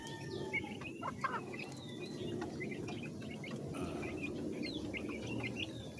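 Caged pet chickens cluck and chirp softly while eating, a busy chorus of short calls over a constant low background rustle, with no talking.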